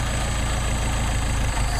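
Car engine running on rebuilt Solex 44PHH carburetors, held at a steady idle by working the choke, which is linked to the throttle. A continuous low, even rumble, close and unchanging, with no voices.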